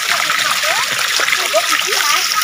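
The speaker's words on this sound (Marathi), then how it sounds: "हे बघा असं पाणी पडतोय दगडीतून, बघू शकता तुम्ही." Water tumbles and splashes over rocks in a steady rushing stream during heavy rain in the Konkan, loud and close, with a voice speaking over it.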